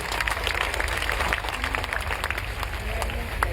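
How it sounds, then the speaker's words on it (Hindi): Audience applause at a direct-selling wellness business event in India, a loud continuous wash of claps with scattered sharper hand hits throughout. "हमारे महागुरु मिस्टर शिव कुमार सर के लिए भी एक जोरदार तालियां होनी चाहिए।"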